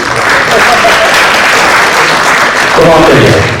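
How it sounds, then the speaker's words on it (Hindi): Audience applause filling the space, loud dense clapping that holds steady throughout and swells slightly near the end, with a voice faintly mixed in. "बजा दीजिए ताली।"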